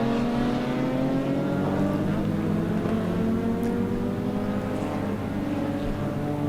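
A mid-pack group of classic racing cars, including a BMW M5, works through the Euromarque hairpin at a circuit, several engines droning and revving together at moderate distance in a continuous overlapping roar.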